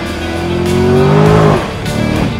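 A Corvette sports car drives past loudly, its engine tone rising and then dropping as the tires squeal briefly, with no talk over it.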